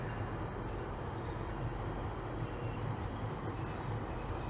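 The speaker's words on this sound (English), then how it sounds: "There's an eastbound GO train rolling in." An eastbound GO commuter train rumbles steadily into Exhibition Station in Toronto, with a dense, continuous roar of wheels on rails and faint high squeals.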